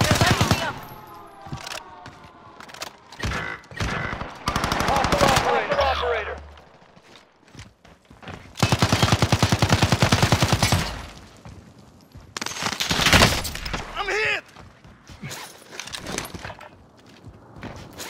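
Gunfire in Call of Duty Warzone on Rebirth Island, with repeated bursts of automatic fire and loud volleys between quieter stretches, mixed with game voice callouts.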